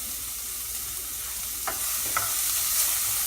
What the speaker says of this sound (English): I'm just going to grab the spoon and stir that up.